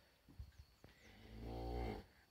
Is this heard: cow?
yes